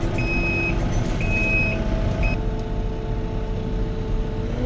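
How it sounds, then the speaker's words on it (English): Reverse beeper on a TYM T654 tractor sounds a steady series of three high electronic beeps over a running engine hum, then cuts out as the engine keeps droning on. "That beeper would be the first thing to go."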